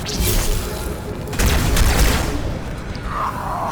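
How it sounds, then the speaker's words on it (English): A Halo 2 plasma grenade going off: a loud, close boom mixed with crashing and whooshing game effects, a burst of noise settling into a lingering rumble. "Grenade."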